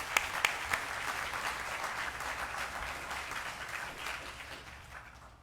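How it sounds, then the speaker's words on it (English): A room full of people at a county commission meeting applauds, steady clapping that gradually tapers off, heard from a moderate distance. "let's give them one more round of applause"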